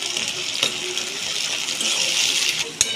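Tomatoes dropped into browned onions frying in a pan, giving a steady hissing sizzle with a few soft clinks and a sharp tap near the end, close and alone.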